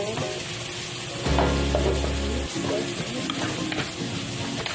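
Salmon frying in hot cooking oil in a pan, a steady close sizzle with a louder low burst partway through, stirring clatter under it.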